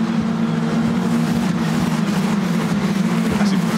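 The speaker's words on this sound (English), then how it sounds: "they sound awesome, don't they? They're EcoBoost engines doing their job nicely" Formula 4 race cars with Ford EcoBoost engines pass on the Croft circuit at a British Championship race, a steady loud engine drone that holds throughout, heard from a pit wall with no voices.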